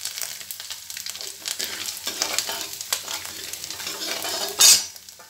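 Garlic and chopped ginger fry for Rajasthani kadhi, a steady close sizzle broken by spoon scrapes and stirring clinks, with a sharp metallic clatter near the end.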